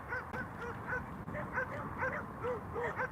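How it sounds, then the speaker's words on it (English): Several dogs bark repeatedly at a distance in an outdoor spot where people bring their dogs, the scattered barks and yips overlapping over a steady background hum. "There's a lot of dogs barking here."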